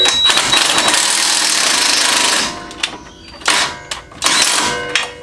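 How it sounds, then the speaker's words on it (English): An impact wrench drives suspension bolts home on a Subaru during a CV axle replacement, giving a loud, sustained rattling hammer for about two and a half seconds, then several shorter bursts after brief pauses. "use our impact to pull it all together"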